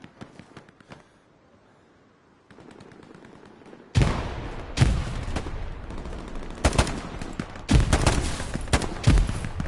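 Gunfire in the console shooter Hell Let Loose on PS5, starting with faint distant shots and then turning into loud, close bursts of rapid automatic fire with sharp cracks, mostly alone with little talk.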